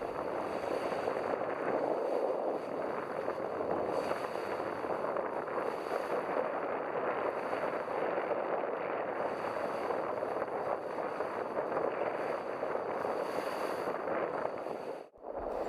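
A sailboat under full sail runs through open water on the Firth of Clyde, carrying a constant loud rush of wind and water noise, with gusts buffeting the microphone and a brief dip near the end.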